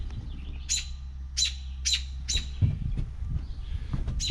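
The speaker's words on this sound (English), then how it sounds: "so a lot of robin chirping today" Agitated robin chirping near its nest beside an outdoor ATV foot peg repair: four loud, sharp chirps at an even pace, then quieter calls, over a low steady hum and faint handling noises.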